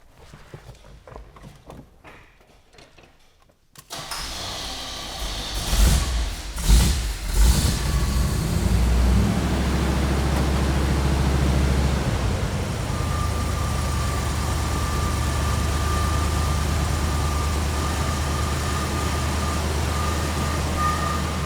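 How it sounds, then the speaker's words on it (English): A 1974 Chevrolet K5 Blazer that has sat overnight cranks and fires on a cold start, then settles into a steady, loud, rumbling idle that continues without a break. "let me just show you a cold start real quick"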